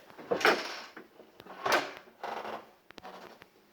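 Several short bursts of rattling and clattering from loose screws shaken around inside the hollow plastic housing of a Toro 1800 electric snowblower, with brief pauses between them.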